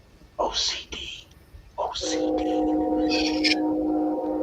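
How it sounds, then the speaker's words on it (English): A train passes nearby with a long, steady rumbling tone building over a few seconds, while people speak intermittently in the foreground. "Shush with your train."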